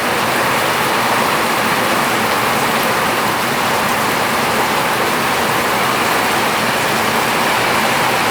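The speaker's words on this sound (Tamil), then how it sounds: "பாருங்கள் மழையை" Heavy rain pours down steadily in a dense, even hiss that stays loud and unbroken throughout, with no voices over it.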